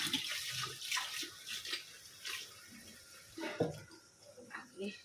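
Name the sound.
washing items with water and soap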